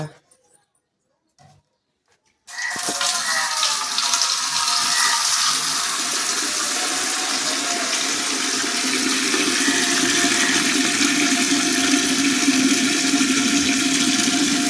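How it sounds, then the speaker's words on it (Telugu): Water runs steadily from a tap into a container at night in a home, a continuous loud rushing gush that starts abruptly after a quiet opening and carries on unbroken to the end. "ముందు నీళ్ళు పట్టేసుకోవాలి"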